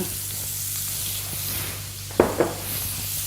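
Sliced leeks frying in a pan of melted fat, a soft steady sizzle with a couple of brief louder crackling bursts near the end, close and without speech.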